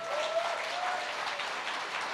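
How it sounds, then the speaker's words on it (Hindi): An audience claps for a speaker at a gathering, a brief, fairly faint wash of steady applause with no voices on top. "एक जोरदार तालियां होनी चाहिए।"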